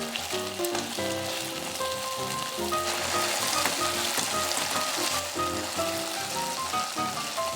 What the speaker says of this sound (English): Arrange the pork belly slices in the pan. Cook the surface and flip them over.